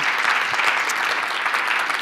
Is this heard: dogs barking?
no